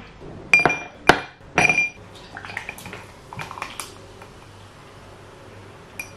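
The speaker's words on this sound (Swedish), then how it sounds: "Jag ska hälla upp mig ett stort glas med Fanta och flera flera isbitar" Ice cubes in a large glass of Fanta clink sharply three times in close succession, followed by softer scattered tinkles and rattles of settling ice, fairly close with no talking.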